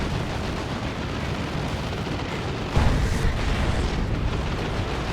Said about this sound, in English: Wow, look at the damage from that rocket launcher on rear armor there.